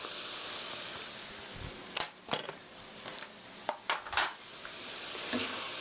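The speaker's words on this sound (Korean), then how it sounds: "살짝 볶아주세요." Onions and turmeric curry powder are stir-fried in a pan, with a steady hiss of sizzling broken by several sharp utensil scrapes and clinks against the pan, close and fairly quiet.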